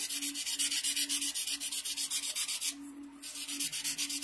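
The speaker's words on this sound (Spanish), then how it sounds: "Estoy lijando todas las orillas para quitar todo donde se ve que se pasó el corte" Sandpaper rubs along the edges of a freshly cut piece in a fast, steady back-and-forth rhythm, close and even, pausing briefly midway before resuming.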